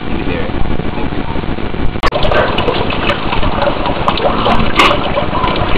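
Water from a home-made ram pump pours steadily into a drum, a loud, close, continuous splashing flow with a short break partway through and speech heard under it.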